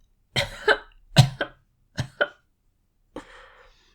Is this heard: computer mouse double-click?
no